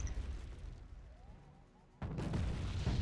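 HE bombs exploding on a tank in Wargame Red Dragon, rumbling low blasts that fade out, then a sudden loud heavy explosion that keeps roaring on.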